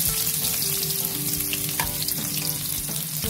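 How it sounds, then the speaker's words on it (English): Onion dropped into hot cooking oil in a pan, a steady close sizzle of frying with a low hum and faint tonal background underneath, continuous for a few seconds. "So I'll add a bit of cooking oil to my pan. I'll then add my onion"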